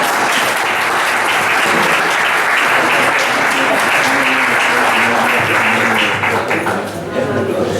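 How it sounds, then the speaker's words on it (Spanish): An audience claps steadily and loudly for a speaker at a talk on pairing Jerez wines, continuous applause that tapers off near the end. "Un aplauso para él, ¿no?"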